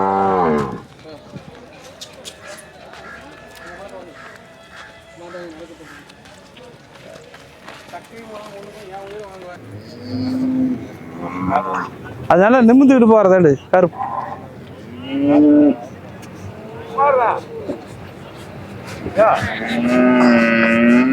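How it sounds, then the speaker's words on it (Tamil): Crossbred high-yield dairy cows moo loudly and repeatedly, close by, in drawn-out calls that rise and fall, with people talking over and between the calls as the animals are driven along. "எல்லாமே கிராஸ் மாடு தான் அதிக கறக்கிற மாடு தான் எடுத்துருக்குறோம்"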